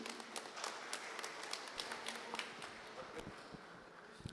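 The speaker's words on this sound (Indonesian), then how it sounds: "Kita beri tepuk tangan sekali lagi" A congregation at an HKBP church district celebration gives faint, distant, scattered clapping, a light patter of separate hand claps with some murmuring in the background.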